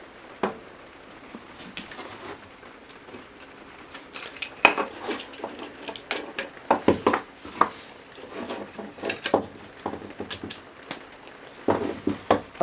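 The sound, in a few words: chunks of pipe fittings slotted together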